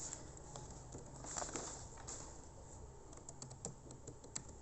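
Computer keyboard typing a git commit command, quiet scattered key taps at a soft, uneven pace over a low background hum.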